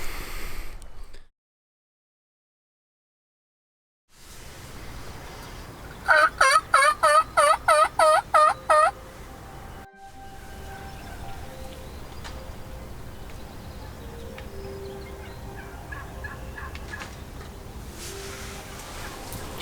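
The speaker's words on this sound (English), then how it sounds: "I hear them gobbling a lot actually" Wild turkeys gobble in a rapid rattling burst at a distance during a spring hunt in Manitoba, with a person talking quietly and faint outdoor rustle around it.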